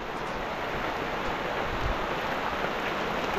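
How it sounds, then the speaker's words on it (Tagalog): Steady rain pours down outdoors during a honey harvest, a dense continuous hiss that fills the whole moment with no voices over it. "Tayo po inabot ka ng ulan."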